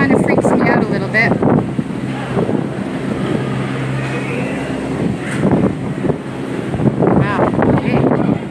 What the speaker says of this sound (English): it's definitely nice and breezy up here now